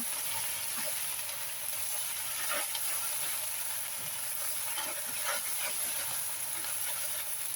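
Water spinach stir-fried with shrimp paste and pork belly sizzles and hisses steadily in a hot pan, a dense continuous frying hiss with occasional louder spits and crackles, close and without talk.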